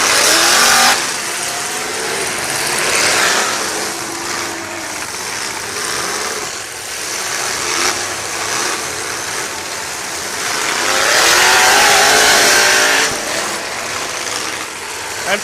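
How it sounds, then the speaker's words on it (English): A purple Lincoln demolition derby car with dual drive revs hard, its engine roaring and surging up and down in loud, close bursts that swell to a peak before easing back. "That Junkman, that purple Lincoln, let it eat, Gumby"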